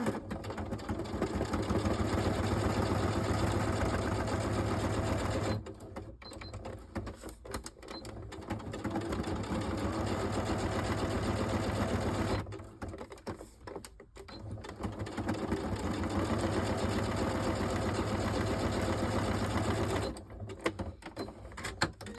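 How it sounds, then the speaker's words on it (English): Sewing machine stitching around three sides of a sequin shaker card, running in steady whirring bursts separated by short pauses, close and fairly loud with no talk. "So I've actually got my sewing machine over here"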